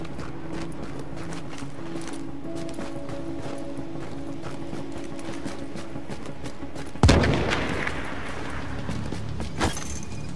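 Gunfire in the shooter game Tom Clancy's The Division: a low mechanical hum and ambience, then one sudden loud shot that rings out, followed by a fainter second report.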